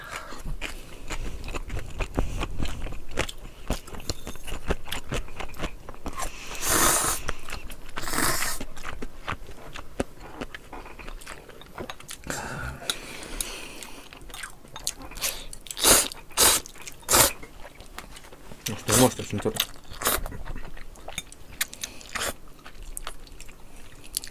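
Someone chews mouthfuls of bossam pork wrapped with kimchi and rice-cake wrap, making close, wet, crunchy bites and mastication noises with sharp clicks scattered throughout.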